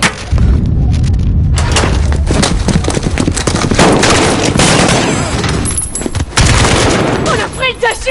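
Loud, dense gunfire in a Call of Duty video game firefight, with overlapping volleys, booming impacts and thuds, and a brief lull of scattered shots before heavy firing resumes.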